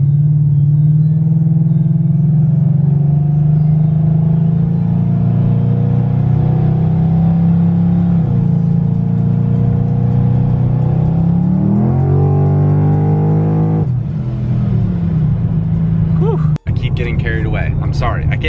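Car fitted with a 3600 stall converter, E85 fuel and a triple pump fuel system, accelerating in a steady, loud engine drone that climbs in pitch through gear changes, heard from inside the car.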